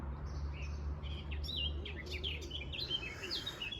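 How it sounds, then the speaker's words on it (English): Small birds in a tree chirp and tweet in quick, high, scattered calls, moderately faint, over a steady low background hum. "They love that tree, the birds."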